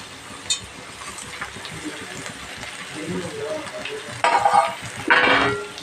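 Green chillies and capsicum sautéing in oil in a pan for vegetable biryani, with a low steady sizzle broken by two louder bursts of stirring and frying near the end.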